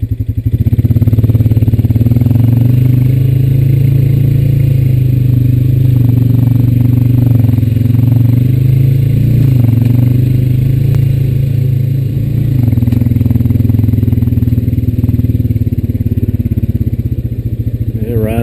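A Honda Rancher 420AT ATV engine drones loud and steady at close range while riding through a shallow spillway with stagnant water, a low constant rumble with slight changes in pitch, and a voice talks over it.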